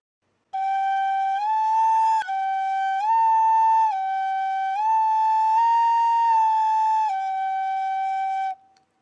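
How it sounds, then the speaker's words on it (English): A Sigrun Viking bone flute plays a slow sequence of clear, sustained whistle-like notes, stepping up and down between nearby pitches with half-holed shadings, alone and close, with one brief break in the tone. "you can half hole notes just like any whistle or flute"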